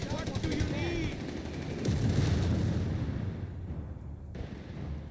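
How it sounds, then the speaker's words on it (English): Bursts of MG-34 machine gun fire in Company of Heroes 3 crackle amid dense battlefield noise, with a steady roar of shots and explosions running through the whole stretch. "Captain, there's the MG-34."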